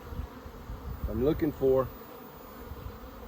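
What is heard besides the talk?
honeybees buzzing in an opened beehive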